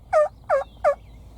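Three evenly spaced, close, clear yelps sound in quick succession, a hunter's turkey call imitating a hen in the field, with quiet background between them.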